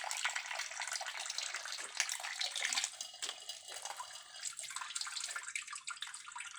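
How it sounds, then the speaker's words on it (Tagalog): Water poured from a tap or container into a cooking pot before boiling, a steady, close splashing stream that runs continuously without a break. "Dagdagan pa natin ang tubig at ating papakulo ang ating kulita."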